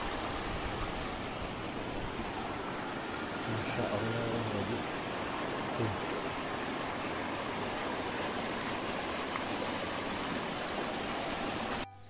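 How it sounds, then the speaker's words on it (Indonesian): A clear mountain river at the foot of Mount Sawal rushes in a steady, loud, unbroken hiss for the whole stretch, with someone speaking briefly over the flow. "alami jernih sungai pegunungan"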